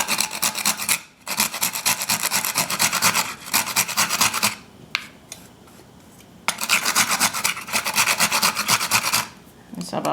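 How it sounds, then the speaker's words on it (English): A dry ingredient rasped back and forth on a grater for a school lunch, rapid rhythmic scraping strokes close up, in two long runs broken by a short pause, with no voices. "Then I come here and grate my dry ingredient first."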